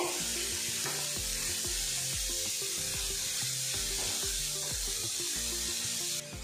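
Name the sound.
grated carrot frying in ghee in a pan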